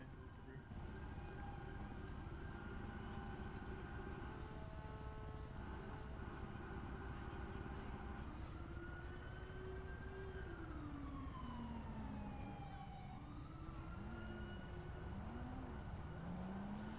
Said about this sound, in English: we're gonna see if we can clear a path for the ambulance over here